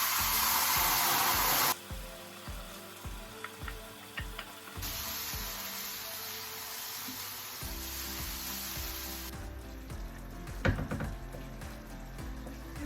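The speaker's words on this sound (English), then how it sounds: "what you want to do is to go ahead and add your chopped tomatoes" Chopped tomatoes sizzle in olive oil for a vegetable chili, a steady hiss with bursts of louder frying and a few stirring knocks, close by.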